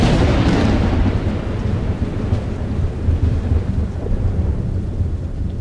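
Thunderstorm sound effect: a loud crack of thunder breaking into a heavy, sustained rumble with steady rain hissing underneath, slowly rolling on without pause.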